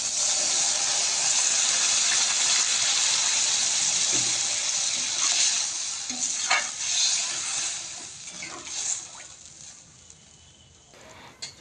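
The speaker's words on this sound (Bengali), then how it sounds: "একটু নেড়েচেড়ে নিয়ে জল দিয়ে দেব।" Mourala fish curry sizzling and hissing loudly in a pan as water is added and stirred, the frying steady at first then settling into softer bubbling with occasional stirring clinks.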